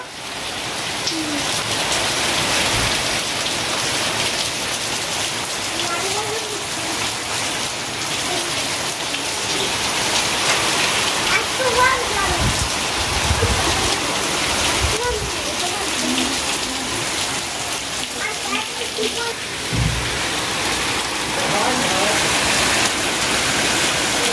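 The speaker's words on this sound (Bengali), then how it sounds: "এই যে দেখেন কি ঝমঝম করে বৃষ্টিটা হচ্ছে, অনেক জোরে জোরে বৃষ্টি হচ্ছে" Heavy rain pours down steadily outdoors in Bangladesh, a dense, loud, unbroken hiss of drops on surfaces lasting the whole stretch, with a few low thuds and a voice faintly present beneath it.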